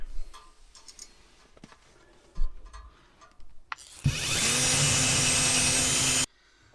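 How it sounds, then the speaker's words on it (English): A power drill whirs steadily for about two seconds, loud and close, drilling a cable hole in a VW T4 van, after a stretch of quiet handling noises and small knocks. "let's just drill a nice hole so we can run the cables"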